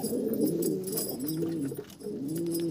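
Old desi pigeons in a loft coo in low, rolling, repeated phrases, close and clear, with a brief pause before the cooing resumes.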